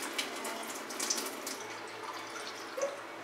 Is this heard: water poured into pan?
yes